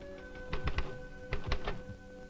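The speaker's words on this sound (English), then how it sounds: "types out its reports on an automatic typewriter" An automatic typewriter in an instrument laboratory for tank design typing out reports: two quick bursts of three or four sharp mechanical strikes each, close and fairly loud over a steady background hum.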